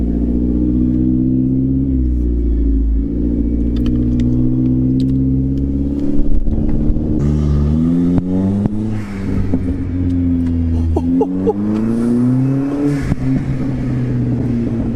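A Genesis car engine revs loudly and close by, its deep, throaty drone rising and falling through several pulls in pitch, with sharper crackles in the middle.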